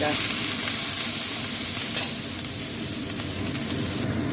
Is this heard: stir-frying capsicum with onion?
yes